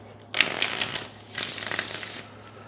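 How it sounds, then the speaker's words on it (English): Two short bursts of tarot cards being shuffled, close to the microphone and fairly loud, over a low steady hum, with no talking. "One more shuffle."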